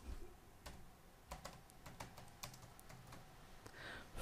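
Quiet keystrokes on a computer keyboard as a short phrase is typed into an image-editing prompt, an irregular patter of soft, close clicks with no talking.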